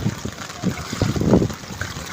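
Flood water moving through a home garage in Tondo, Manila, a low rushing wash with splashy bursts and sloshing; voices are faintly present alongside it.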